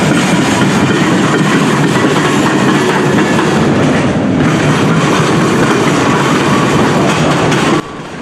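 A long freight train of tank cars rolls steadily past nearby, crossing rail diamonds, wheels clattering over rail joints in a continuous loud rumble that drops off abruptly at the end.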